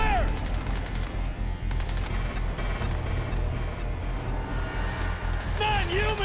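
Rapid bursts of automatic gunfire in the shooter game Crysis 2, continuous and loud, with shouted voices over the shooting.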